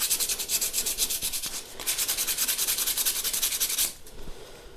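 Hand sanding of bass guitar fret ends with 320 wet and dry paper, a rapid rhythmic scratchy rubbing in quick back-and-forth strokes, close and clear, pausing briefly midway and stopping near the end.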